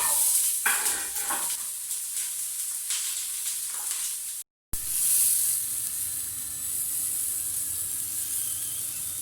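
Strips of onion sizzle in a frying pan with a steady hiss and crackle, a brief cut partway through, and faint knocks of stirring early on.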